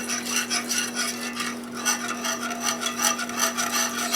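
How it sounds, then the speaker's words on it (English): A spoon scraping bits off the bottom of a pot of thick comfort-food stew, a close, continuous rasping rub in repeated strokes, over a steady low hum, with no voices. "Scraping up all those bits at the bottom."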